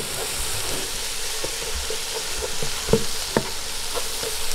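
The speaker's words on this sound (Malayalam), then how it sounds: "ഇതിൻ്റെ ആ പച്ചമണം മാറുന്നോണം വരെ നമുക്കൊന്ന് ഒന്ന് വഴറ്റി കൊടുക്കാം" Spices and onions sautéing in a pan for Kerala chicken pollichath give a steady close sizzle with scattered stirring clicks and scrapes, no voices.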